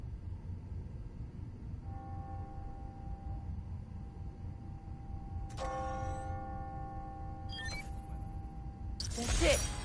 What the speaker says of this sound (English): That's it. Ringing on the hour.